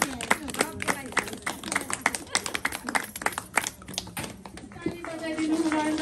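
An audience of women at a community group gathering claps in a dense burst of applause, many hands overlapping, fading toward the end as a sustained tone and voices rise underneath.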